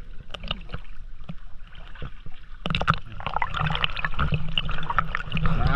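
A wooden canoe on Laguna Lake while fishing, with irregular close splashes, knocks and gurgles of water against the hull that grow busier and louder toward the end.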